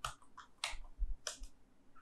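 A few quick keystrokes on a computer keyboard, faint and close, tapped in an irregular little cluster with quiet gaps between.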